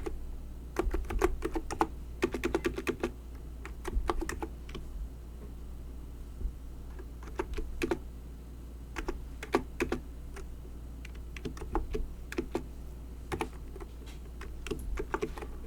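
Typing on a computer keyboard during a spreadsheet class, irregular bursts of close key clicks and taps separated by short pauses over a low steady hum.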